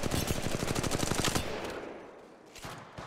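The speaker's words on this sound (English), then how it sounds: "Opening fire. The enemy stands before us. And they're shooting at me!" Rapid automatic gunfire from Apex Legends Mobile, a dense burst of loud shots in quick rhythm for over a second, then easing into a quieter tail with a faint later shot.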